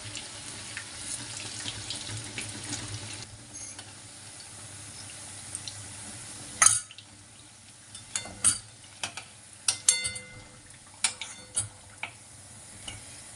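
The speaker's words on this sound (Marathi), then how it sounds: "चांगली तळून घेतली मस्त" Mirchi bhaji, chili fritters in gram flour batter, sizzle softly in hot oil, a faint steady hiss broken later by sharp crackles and clinks from stirring.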